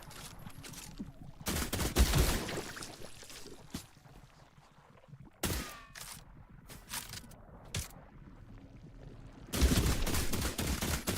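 Pistol shots in the video game The Last Caretaker, a few sharp separate bursts spaced several seconds apart, moderately loud over a quiet background, with no one talking.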